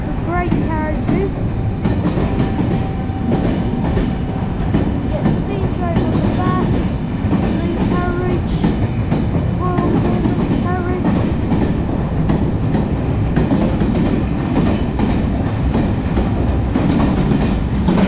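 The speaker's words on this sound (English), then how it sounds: "We've got the steam train going out." West Country Class steam locomotive 34046 Braunton pulls away with its carriages, giving a loud, continuous rumble with steady clickety-clack of wheels over rail joints. A voice is faintly audible now and then.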